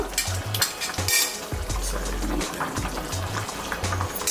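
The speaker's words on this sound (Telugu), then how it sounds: "ఇప్పుడు పులుసు మరుగుతుంది కదా" Bubbling, gurgling fish stew (chapala pulusu) simmering in a pot close by, with popping bursts and occasional low thumps over a busy hiss.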